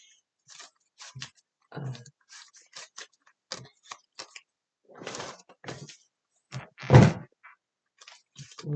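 A big bag of more than 5,000 index cards being shuffled, giving a series of close, dry papery rustles and thumps in irregular bursts, with one louder flurry near the end, heard alone in a quiet room.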